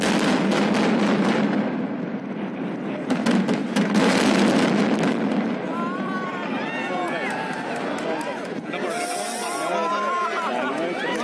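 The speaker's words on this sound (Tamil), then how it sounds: "சனிக்கிழமை அன்று H2O ஹோலி ஃபெய்த் மற்றும் ஆல்பா ஷெரீன் ஆகிய 2 கட்டடங்கள் அடுத்தடுத்து வெடி வைத்து தகர்க்கப்பட்டன" Two apartment buildings are brought down by explosive demolition in a rapid string of sharp blasts and cracks that rumble into a collapse, followed by excited crowd chatter and shouting nearby.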